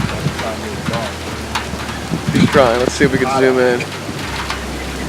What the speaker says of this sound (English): So it's officially raining right now.